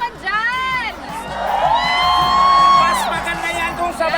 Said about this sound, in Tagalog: Isang sigawan naman dyan!